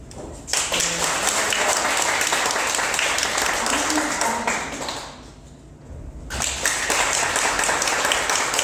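An audience at a piano ensemble concert in an art hall claps in sustained applause that drops out briefly, then resumes just as strongly, with a voice speaking over it partway through.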